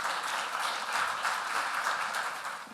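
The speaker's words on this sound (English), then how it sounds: "give him a round of applause" A whisky event audience applauds as a speaker comes on stage, giving a dense, even burst of many people clapping at close range with no voices heard.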